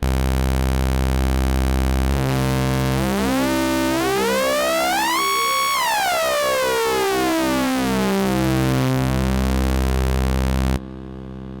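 A synthesizer tone built from a sine wave oscillator with FM turned up, sweeping upward into a bright, harmonic-rich chirp around the middle and gliding back down, sustained and loud throughout before cutting off abruptly near the end.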